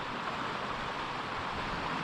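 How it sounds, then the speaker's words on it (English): Water at a Bureau of Reclamation recreation site along a river near Canyon Road rushes in a steady, soft broadband hiss, with no voices over it. "Love the sound of the water."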